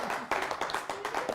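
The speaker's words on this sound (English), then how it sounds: "we have a nice round of applause for this gentleman" An audience at a live magic show breaks into a brief round of applause, several pairs of hands clapping in quick uneven bursts, close and fairly loud.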